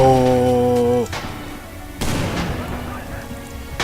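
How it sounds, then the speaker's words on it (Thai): A grenade explodes in the Red Orchestra 2 war video game: a sudden loud broadband blast cuts off a tonal sound, followed by a second burst and rumbling combat noise. "ปาระเบิดมา"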